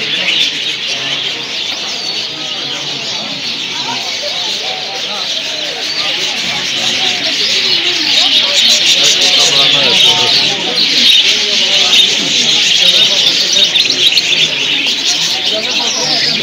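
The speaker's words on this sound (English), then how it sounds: "We're in a bird market." Many caged birds at a bird market in Kabul, Afghanistan, chirp and tweet in a dense, steady chorus, with some pigeons cooing. The calls continue throughout while people talk nearby.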